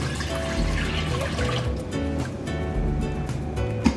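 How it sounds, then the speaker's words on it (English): Liquid steeped from dandelion petals poured steadily into a pot, a continuous close splashing and trickling stream lasting the whole stretch, with no talking. "So what you need to do next is pour that in a pot here."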